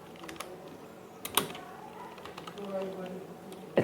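Someone types on a computer keyboard while writing HTML code. Quiet, irregular key clicks come close up, with a couple of sharper taps, over faint background voice.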